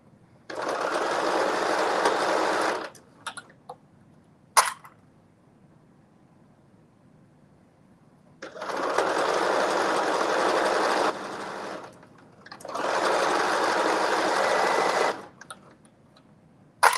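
A home sewing machine stitches in three long bursts of a steady, close whirring hum, separated by quiet pauses, with a brief click between the first and second runs and no talking.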